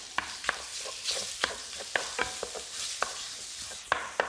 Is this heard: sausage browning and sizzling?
yes